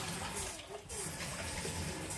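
Cups of water poured into a small cooking pot, a soft continuous splash and trickle with a brief pause midway, fairly quiet and close.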